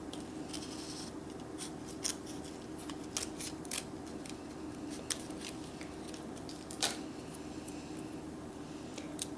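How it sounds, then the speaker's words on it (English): Scissors snip out a small piece of material for a miniature oven interior, with quiet, scattered clicks and cuts at an irregular pace over a low, steady background hum, no talking. "Cut another piece out."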